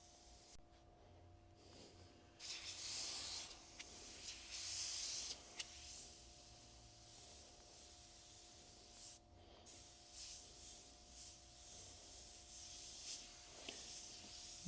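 An Evolution CR+ airbrush sprays reduced paint in a steady soft hiss, with louder bursts as the trigger opens wider. The sound is faint and close, with no talking.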